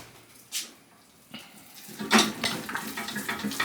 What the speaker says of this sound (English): Put a little bit more water, and then put the lid on.